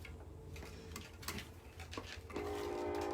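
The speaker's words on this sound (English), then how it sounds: "Sorry, I live by the train tracks too." Rail traffic rumbles past with clicking and knocking, then a train horn begins to sound near the end, fairly loud and steady.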